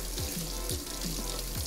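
Potatoes washed under cold running tap water in a kitchen sink, a steady close stream with rhythmic splashing and rubbing as the potatoes are turned by hand.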